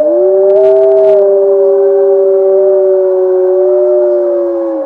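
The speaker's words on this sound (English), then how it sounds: "this is what a wolf sounds like" A wolf howls in one long, loud, steady note held for about five seconds. The pitch sags slightly at the end, and no one speaks over it.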